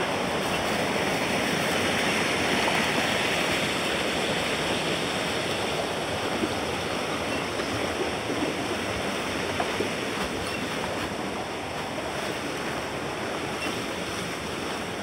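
River water rushes continuously near old water mills in Rebordans, Tui, a steady, full roar with no breaks and no voices over it.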